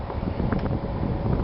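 Steady wind buffeting a microphone outdoors in Marquette County near an old mine cart, a low rumbling roar that fills the whole clip without pause.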